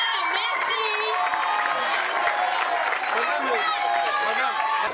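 A school audience at the Les Oliviers school cheers and claps, with a continuous crowd roar full of children's shouts and whoops.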